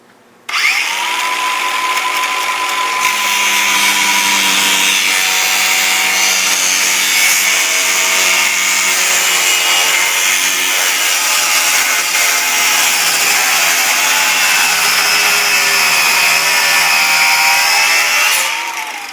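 A power tool cuts through the body edge of a Yamaha G29 golf cart to clear taller tires, producing a loud, continuous, high-pitched grinding whine that runs steadily for about eighteen seconds, close up and without talk.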